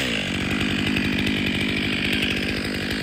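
A powerful chainsaw fitted with a 25-inch bar cuts into a smaller tree during cable-assisted felling in a tight, high-hazard spot. The engine roars loud, close and steady for the whole stretch, with no talk over it.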